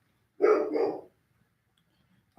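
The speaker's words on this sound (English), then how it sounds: "There goes the dog again." A dog barks outside in two quick, loud back-to-back bursts, followed by quiet, with another bark cut off at the very end.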